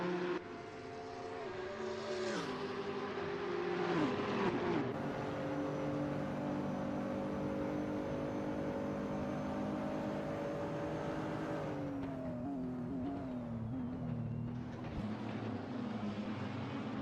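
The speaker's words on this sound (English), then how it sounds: "as now Extasia or Blake Easy or both of the Nissans have a shot to get ahead of the Lamborghini here" GT race cars, Nissans and a Lamborghini, in a racing video game at Mugello: steady engine drones with gear-shift pitch drops and overlapping revving, loud and continuous, with no talking.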